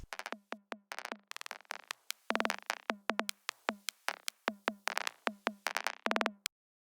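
Tom samples from the 606 and 808 drum machines, run through a high-pass filter, form a busy clicky drum track: rapid tuned pitched clicks with short decays in stuttering, glitchy rhythmic bursts, ending abruptly.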